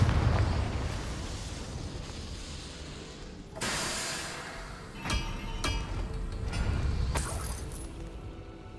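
Confringo fire spell explosions in Hogwarts Legacy, several bright bursting blasts with shattering, glassy crackle and clinks, a big one mid-way followed by sharper pops, loud over a rumbling battle bed.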